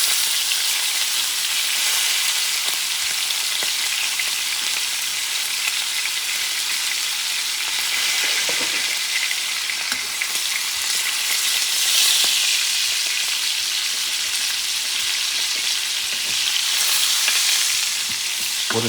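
Butter sizzles in a frying pan alongside a ribeye steak, a loud continuous crackling hiss with small pops throughout, no talking.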